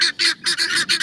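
Guinea fowl give loud, close, harsh repeated calls, four quick rasping squawks in rapid succession within about a second.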